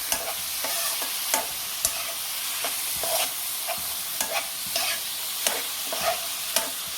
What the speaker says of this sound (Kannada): ಚೆನ್ನಾಗಿ ಒಂದು 6 ಇಂದ 8 ನಿಮಿಷದಷ್ಟು ಫ್ರೈ ಮಾಡ್ಕೊಳ್ಳಿ.